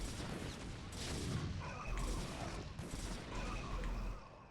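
Units target firing in a StarCraft match, a quiet burst of rapid overlapping shots and impacts in several clustered volleys with no talking over it.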